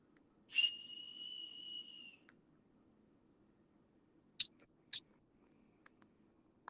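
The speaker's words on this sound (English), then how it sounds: "I think I found the whistle" A single whistle blown once, clear and sustained for over a second in a quiet room, followed later by two short sharp clicks.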